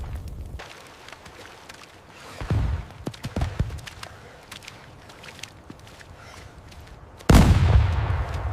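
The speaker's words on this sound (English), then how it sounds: "We're taking heavy fire." Heavy gunfire in a 1944 Normandy hedgerow battle scene: scattered loud booming shots and crackling bursts, then a sudden sustained roar of fire toward the end, with no talking.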